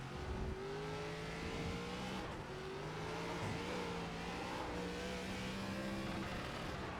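A race car engine in the iRacing sim on the Lime Rock circuit, an ARCA stock car holding a loud, steady drone with the pitch swooping up and down as it rises and falls over the hill, with no talking.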